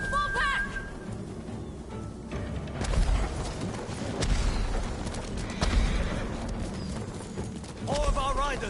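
Horses whinny and hooves pound amid a chaotic samurai battle din in the video game Ghost of Tsushima, with shouting voices over the galloping.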